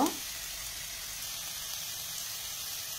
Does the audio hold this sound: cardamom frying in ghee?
yes